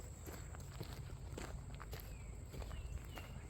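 Footsteps of a person walking outdoors up toward a street near a beehive site, a steady series of close, soft crunching steps against faint background ambience.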